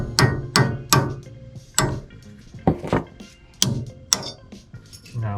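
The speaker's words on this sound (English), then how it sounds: "Switching over to pin punch. Get this off from the top." Metal-on-metal hammer strikes drive a pin punch against the cotter pin of a Toyota Tacoma wheel hub, about nine sharp, ringing blows at uneven intervals, close and loud with quiet gaps between them.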